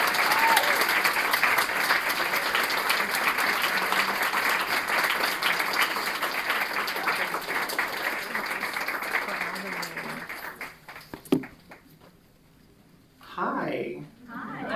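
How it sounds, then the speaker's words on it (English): An audience at a literary reading claps steadily and fairly loudly for about ten seconds, then the clapping fades out and a voice begins speaking near the end. "Please give her a round of applause."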